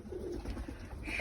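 Young female Baska pigeon cooing in a pigeon loft, a soft low coo heard close and alone over faint background hiss.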